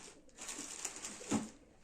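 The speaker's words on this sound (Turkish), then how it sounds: "güvercin geldi" A pigeon coos close by, a couple of soft, low throaty calls over faint outdoor background noise, with no talking.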